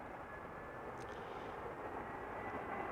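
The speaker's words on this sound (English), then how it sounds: "First up an A320, next an A320neo, both from EasyJet" EasyJet Airbus A320 airliner approaching to land at Amsterdam Schiphol Airport, a steady, fairly distant engine roar holding level throughout.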